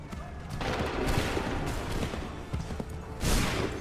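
Musket volleys in Assassin's Creed III: broad bursts of gunfire crackle across a dense battle din, with a sharper volley near the end, moderately loud and layered over shouting.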